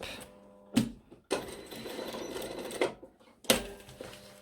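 Bursts of a sewing machine stitching a blazer seam with back-tacking at the ends, short rapid runs separated by pauses, close and clear.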